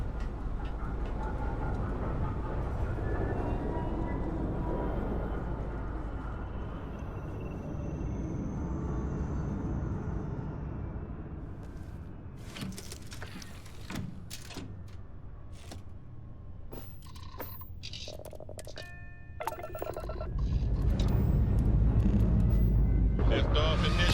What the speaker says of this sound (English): Liftoff initiated, Captain.